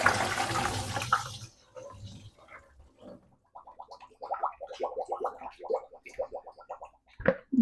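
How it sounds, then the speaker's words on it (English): Water draining from microwaved fresh ravioli, a brief splashing pour at the start, then quiet sloshing, dripping and small clinks of the container. "So let me get these drained real quick here."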